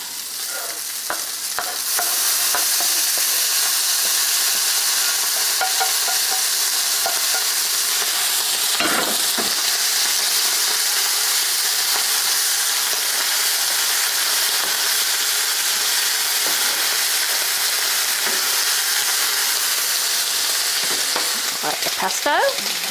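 Tomatoes and meatballs sizzle steadily in a hot pan, a loud continuous frying hiss with occasional scraping stirs, starting with a sudden surge as the tomatoes go in; no one speaks.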